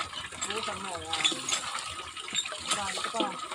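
Water poured from a glass, a steady gushing splash that runs throughout under continuous talking.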